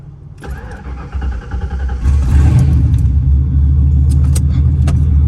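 A car engine, one of a group including turbo Fox-body Mustangs and a '93 Cobra, starts up and settles into a deep, steady rumble close by, building in loudness as it idles.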